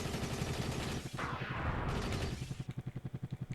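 Helicopter cannon fire in Soviet Strike, rapid rhythmic bursts that end in a fast, evenly spaced volley of sharp shots, loud and close with no talk.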